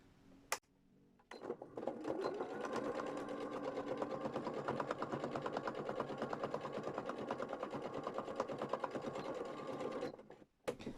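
A sewing machine runs a long straight stitch at a slowed pace, its rapid even needle clatter close and continuous for about nine seconds before it stops.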